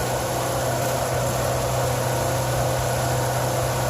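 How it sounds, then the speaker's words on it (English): A 15,000 BTU air conditioner's compressor runs on generator power, producing a steady, unbroken mechanical hum layered with a constant airy whoosh. "There goes the compressor."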